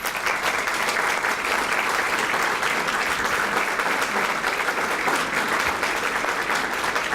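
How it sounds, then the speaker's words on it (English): An audience gives sustained, dense applause for a Florida Women's Hall of Fame inductee at a Women's History Month celebration, loud and steady throughout with a faint crowd murmur beneath. "Will you please stand for us so we can give you a round of applause?"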